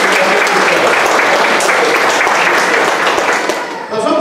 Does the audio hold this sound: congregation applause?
yes